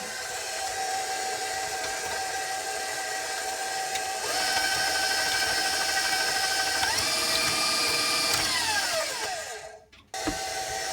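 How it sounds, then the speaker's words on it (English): An electric mixer whirs steadily while blending dry homemade cake batter ingredients, a constant motorized hum that shifts pitch as the speed changes, then cuts off abruptly near the end. "I'm going to put it in my mixer"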